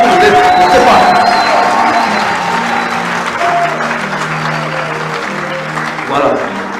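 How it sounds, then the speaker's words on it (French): Sustained, loud applause rises from an audience at an association's launch event, mixed with crowd murmurs, an occasional cheer and tonal background sounds, tapering slightly before a brief swell near the end. "Je crois que ça pouvait avoir des applaudissements nourris qui continuent."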